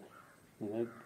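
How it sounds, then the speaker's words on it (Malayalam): A single crow caw rings out near the end, brief and fairly close, over a quiet spoken voice. "കാക്കയുടെയും കിളികളുടെയും സൗണ്ട് തന്നെ വെച്ചുകൊണ്ട് തന്നെ ഞാൻ"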